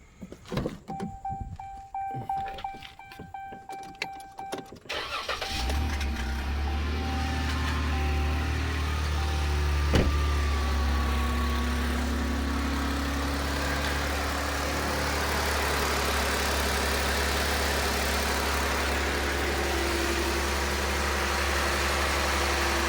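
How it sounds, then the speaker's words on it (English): A Ram 1500 pickup truck, overfilled with oil, cranks briefly with a choppy starter whir, then catches and settles into a steady, close, even engine idle that continues throughout. "I want to go in here and start this truck and make sure it's not leaking."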